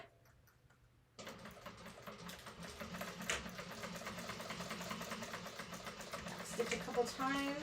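An electric sewing machine stitches a webbing sling in a sling-making class, a steady mechanical whir with rapid ticking that starts abruptly after a quiet moment and runs continuously, close and moderately loud.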